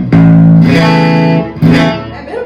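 Two loud, low strummed chords from a distorted Danelectro Danoblaster baritone electric guitar on its middle pickup, each ringing out with thick sustain before the next.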